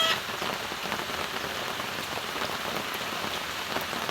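Heavy rain hammers down on surfaces near a fishpond, a thick, constant hiss of drumming drops, close and loud, with individual splats standing out against the steady roar and no talking.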